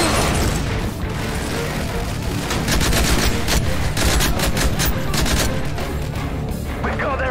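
Heavy gunfire from the Call of Duty: Modern Warfare 3 mission Dust to Dust, with dense bursts of automatic weapons and booming impacts, loud and continuous throughout, with faint talk underneath.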